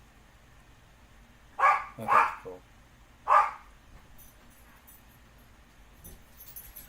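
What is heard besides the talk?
dog barking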